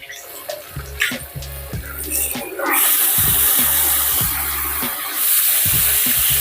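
A hotel shower tap in Chengdu is turned on and water starts to run, rising after a few seconds from scattered clicks and drips into a loud, steady, high-pressure rush that continues to the end.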